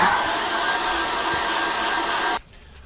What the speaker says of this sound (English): And again, dry that off with a hairdryer.